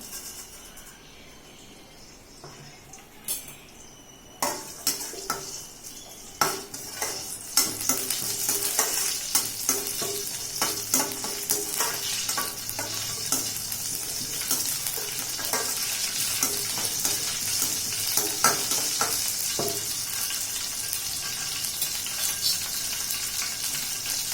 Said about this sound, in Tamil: ஆயில் ஊற்றியாச்சுங்க சோம்பு போட்டுடலாம்